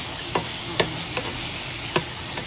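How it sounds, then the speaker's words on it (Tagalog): Pork tocino frying in its own rendered fat in a pan, a steady close sizzle broken by a few sharp crackles and pops spread through the clip. "parang nagpiprito rin siya kasi may taba din naman po kasi ito"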